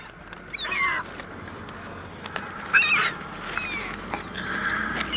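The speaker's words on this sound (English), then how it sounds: "See what you do when you're feeding seagulls." Seagulls being fed outdoors call in loud, harsh squawking bursts at close range, several overlapping cries arriving in waves over a steady background wash.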